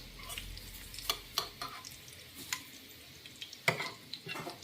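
A ladle stirs and chops meat frying in a pan, giving soft sizzling under irregular scrapes and taps of metal on the pan, fairly quiet and close, with no talking.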